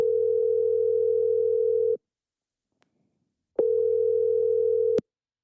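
A steady telephone tone rings out in two long, loud bursts with a silent gap between them, heard alone while a call waits to go to voicemail.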